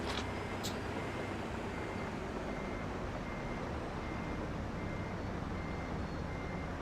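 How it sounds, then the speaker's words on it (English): Reversing beeps from a vehicle backing up at about 4 mph in the video game Farming Simulator 25, with a steady, thin alarm tone sitting over a constant loud rumble of engine and noise throughout. "In reverse with it beeping."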